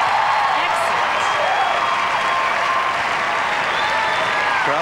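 Audience applause follows a professional ballroom samba performance at a 1999 championship, a dense, steady roar of clapping with some cheering that fills the whole stretch at close, loud level.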